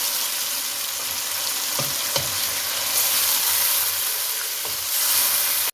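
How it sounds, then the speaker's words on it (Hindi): Yogurt mixture being stirred into frying masala for chicken tikka biryani, a loud continuous hissing sizzle with a few spoon knocks against the pot. "अब इसको इसके अंदर मिक्स करें और जो ये दही का मिक्सचर बचा था ये अब इसके अंदर डाल दें। इसे मिक्स कर लें।"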